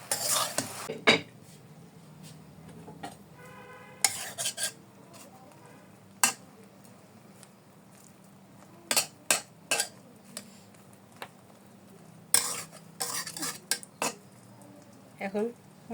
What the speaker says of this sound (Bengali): মিশ্রণটা দিয়ে একটু নেড়ে নেবে